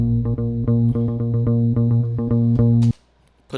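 A raw, unprocessed bass guitar track from a cover of a song plays alone as a run of plucked notes in a steady rhythm, then cuts off abruptly near the end.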